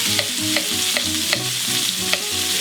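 Chopped onion hitting a hot pan in a simple roast chicken dish, sizzling steadily with repeated stirring scrapes and clinks of a utensil, close and fairly loud, no voices.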